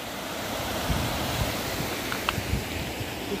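A hidden waterfall in Chamoli, Uttarakhand, heard as a steady broad rush of falling water filling the scene, with faint wind noise and a few soft knocks.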